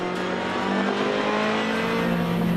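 Race cars overtaking at Zolder in a Supercar Challenge round, a Honda passing a Lotus Exige and a Clio, with loud sustained engine drone and whining harmonics from several cars running close together, no talk heard.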